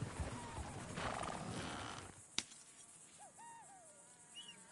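Horses in the video game Red Dead Redemption 2, faint whinnies and neighing over busy ambient game noise, with a sharp clack partway through and quieter animal calls trailing afterward.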